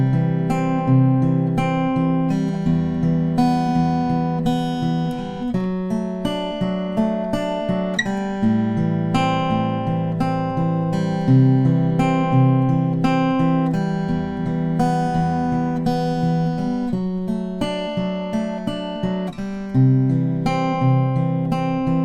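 Fingerpicked acoustic guitar plays the chorus of a song in a steady, repeating picking pattern, with clear chord changes and ringing notes, solo and close with no voices.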